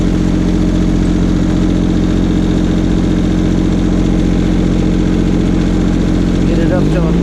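A Mahindra eMax 22hp compact tractor runs loud and close with its 4-foot tiller PTO engaged, a steady droning engine and rhythmic mechanical churn holding throughout, then shifting in pitch near the end.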